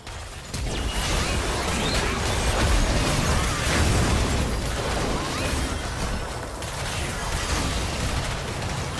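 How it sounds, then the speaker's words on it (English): A turret being destroyed in a League of Legends match, a loud, sustained roar of crashing and crumbling blast noise that keeps going for several seconds with no pause. "Red team's turret has been destroyed."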